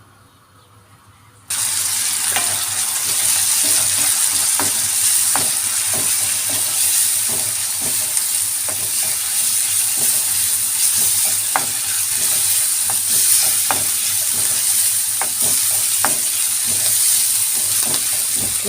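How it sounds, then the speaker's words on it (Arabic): Moroccan tomato-based sauce for baked sea bream, shrimp and whiting, frying in a pan on the stove, a steady loud sizzle with faint stirring clinks throughout, starting abruptly after a brief quiet moment; no talking. "ها هي وندير هادشي فوق النار نشحر"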